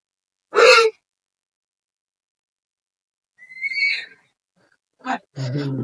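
A horse whinnies loudly once, then a second shorter neigh follows after a pause, with brief breathy snorts and rustling near the end.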